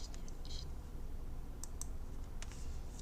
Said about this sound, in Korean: SREF 스페이스바 눌러서